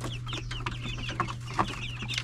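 Chickens clucking in a backyard flock, a busy overlapping chatter of soft clucks and squawks from several birds nearby, steady throughout over a low electrical hum.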